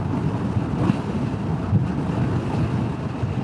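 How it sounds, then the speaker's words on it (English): Strong gusty wind buffeting the microphone at a motorcycle campsite during a road trip, a steady loud roar with surging gusts throughout, no voices. "Ooh, it is windy."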